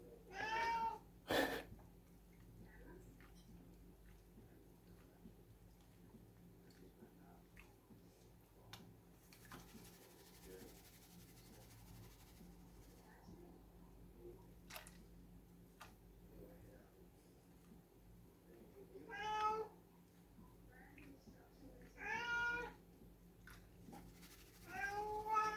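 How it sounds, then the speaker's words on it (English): A domestic cat in a house meows several times, close and fairly clear, in short bursts separated by long quiet stretches with faint ticking and low room noise. "She's a very chatty cat."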